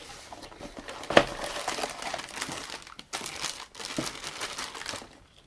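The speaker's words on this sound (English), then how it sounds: "so here it is opening for the first time, and it's in a plastic bag." A plastic bag wrapped around a jigsaw puzzle box is opened, giving steady close crinkling and rustling with a sharper crackle near the start and short pauses between bursts of handling.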